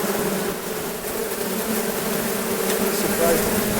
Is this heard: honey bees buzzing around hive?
yes